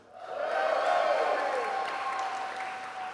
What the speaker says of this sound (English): I want you to give them a big cheer